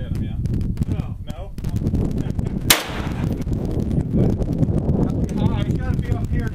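A single sharp rifle shot fired at steel targets 750 yards away, a loud crack partway through amid wind noise on the microphone, with people talking before and after.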